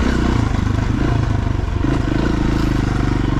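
An enduro motorcycle rides a sandy, rocky forest trail, its engine thrumming loud and steady up close with clattering and scraping from the rough ground and no talk.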